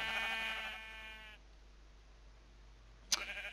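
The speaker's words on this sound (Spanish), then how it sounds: "Escucho más ovejas por algún lado, pero no sé dónde" Sheep bleat in a video game, with one long wavering bleat at the start and then a short, sharp bleat near the end over faint background noise.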